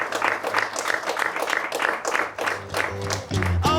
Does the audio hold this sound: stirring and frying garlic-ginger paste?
no